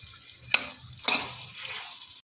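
Curry leaves and green chilies fry in oil in a pan with a steady close sizzle, broken by two sharp stirring scrapes of a utensil against the pan.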